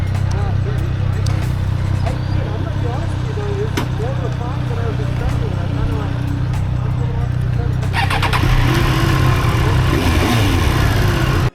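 A Triumph motorcycle engine on a test ride, a steady mid-pitched drone that rises as it accelerates later on, with wind noise growing loud near the end and a voice heard over it.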